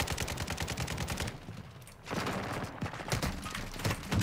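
Rapid bursts of hip-fired gunfire in Warzone 2, repeated crackling shots running nearly the whole stretch with a short lull in the middle, loud and close.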